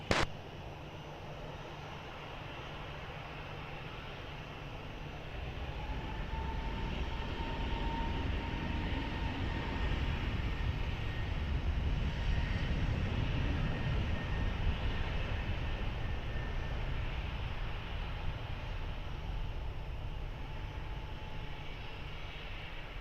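An airliner taking off from runway 20 at Lisbon Airport, a broad engine roar that swells after a few seconds and holds steady at a distance for the rest of the clip.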